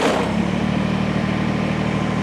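A Kubota BX compact tractor's engine running steadily at a loud, close idle, with a dense even drone and no pauses.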